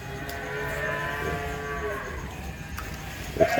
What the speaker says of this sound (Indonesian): bisa disaksikan ya, sapi-sapi super dari kandang Majapahit Abadi Farm Jakarta.